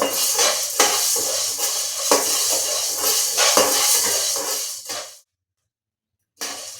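Coriander seeds dry roasting in a pan give a dense, steady crackle mixed with scraping from a stirring utensil. The sound drops to silence for about a second near the end, then resumes.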